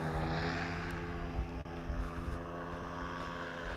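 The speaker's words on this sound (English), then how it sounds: "That boat is way too loud." A loud motorboat runs on the water some distance off, its droning engine hum steady and continuous with a strong low rumble and a rich stack of buzzing tones throughout.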